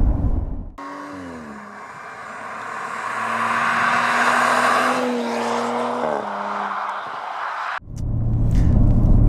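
BTCC-prepared Audi RS4 Avant engine revs hard through quick upshifts, a raucous, gargly roar from inside the car with rising pitch steps and abrupt shift breaks.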